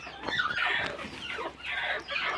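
Native country hens on a small poultry farm cluck in short, repeated bursts, several birds calling close together in a steady, busy chatter with no talk.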